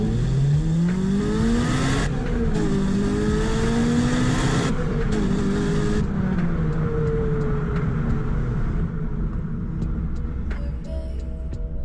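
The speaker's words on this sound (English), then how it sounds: "the noise of this car really is just absolutely phenomenal" A Honda Integra Type R engine revs hard and loud for several seconds, pitch climbing and dipping through gear changes, then settles to a lower rumble.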